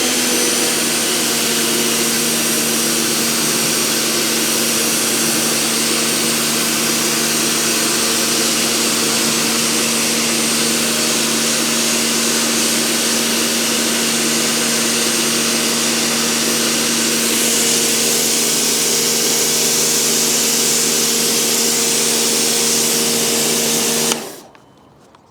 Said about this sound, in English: It's done a good job actually for a 1400 watt pressure washer.